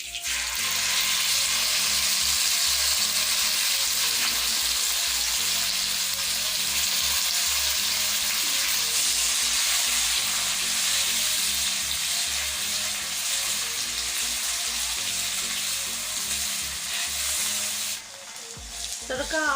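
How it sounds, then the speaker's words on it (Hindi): Saag greens with crushed cumin frying in a hot tempering, a loud continuous sizzle and crackle with occasional stirring scrapes, close up and steady until it briefly dips near the end. "कुटा हुआ जीरा, साथ ही शामिल कर दूंगी साग।"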